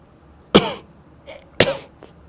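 Two sharp, close human coughs about a second apart, each with a short rasping tail, separated by a faint breathy throat sound in an otherwise quiet room.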